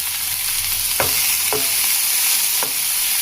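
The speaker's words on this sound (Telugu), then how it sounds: "అప్పుడు మనకి పక్కన కోసుకుని పెట్టుకున్న టమాటా ముక్కలు వేసేద్దాం ఇందులో" Chopped tomato pieces dropped into a hot frying pan for tomato curry, a loud continuous sizzle with a few soft stirring knocks from a spoon.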